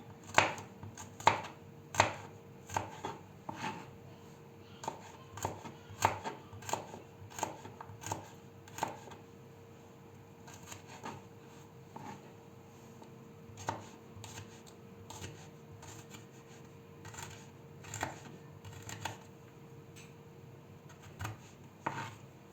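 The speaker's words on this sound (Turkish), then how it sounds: "Domateslerimi de küçük küçük doğruyorum şimdi arkadaşlar." Steady knife chopping tomatoes on a cutting board, irregular quick taps in bursts, close by, with a low hum underneath and no talking.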